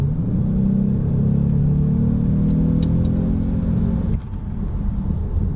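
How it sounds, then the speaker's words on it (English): 2018 Kia Stinger GT2 with a 365-horsepower twin-turbo V6 and all-wheel drive, driven in Sport mode, giving a steady, loud low engine hum from inside the cabin that drops briefly near the end as the car shifts. "Right now we're currently driving the GT2."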